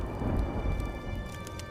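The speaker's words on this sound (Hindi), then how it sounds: "आसमान में काले बादल छा जाते हैं और जोर जोर से बिजली कड़कने लगती है" Heavy rain pours steadily with a low rumble of thunder beneath it, loud and continuous over a short stretch with no voices.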